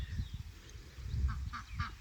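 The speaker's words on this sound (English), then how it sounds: "There's my ducks down there, you can see them all." Ducks on a slope above a backyard creek give faint honking quacks, a few short calls clustered toward the end over low outdoor rumble.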